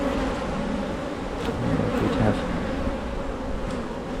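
Honeybees in an open hive during inspection make a dense, steady buzzing drone close by, with someone talking over it.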